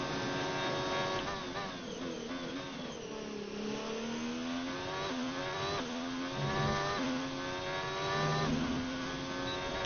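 The engine of an F1 car in the racing video game F1 2019 revs high and shifts repeatedly, its pitch climbing and dropping through gear changes at a steady, moderate level with no talking.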